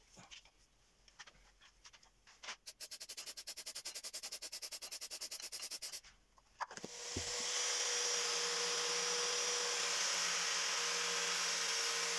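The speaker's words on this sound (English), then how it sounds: "I use 120 grit sandpaper to take off the CA" Hardened CA glue sanded off a woodturning piece with copper wire inlay using 120 grit sandpaper: a few seconds of rapid rattling buzz, then a loud, steady rushing abrasive hiss that continues to the end, with no talking.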